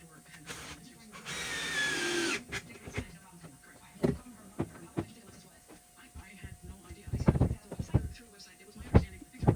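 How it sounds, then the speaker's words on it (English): Power drill briefly whirring as it drives a screw to hang a wall cabinet carcass, a loud close burst followed by scattered knocks, bumps and handling clatter. "I'm going to pull it up where I want it, drive a screw in it, and that'll be that."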